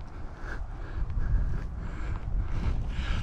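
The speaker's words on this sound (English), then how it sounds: "It's a bit of wind" Wind buffeting through woodland on a hill near South Bristol, a low continuous rumble with gusts that swell and ease, close to the microphone, no speech.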